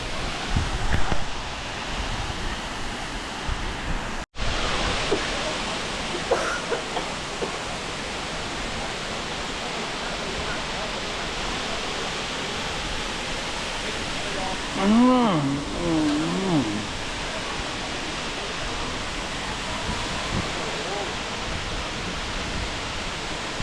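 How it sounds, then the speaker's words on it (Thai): Khlong Lan waterfall in February, a steady broad rush of falling water that holds constant from start to end, with a brief sharp knock early on and a faint voice in the middle. "น้ำตกคลองลานครับในช่วงเดือนกุมภา น้ำก็จะมีประมาณนี้นะครับ"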